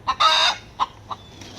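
A backyard homestead hen gives a loud rooster-like crow, a harsh drawn-out call broken by short clucks, close to the microphone.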